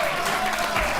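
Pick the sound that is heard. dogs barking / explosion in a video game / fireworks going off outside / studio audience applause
studio audience applause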